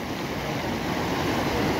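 The flooded Gambhir river rushes past a broken culvert, a dense, steady roar of churning water mixed with wind buffeting the microphone, loud and continuous.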